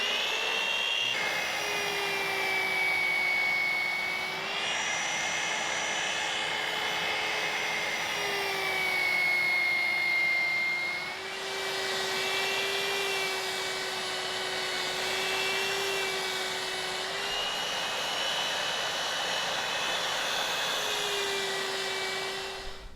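A sander grinding a Master Sword replica blade, producing a loud, steady whine that shifts in pitch as pressure changes, continuous and close throughout.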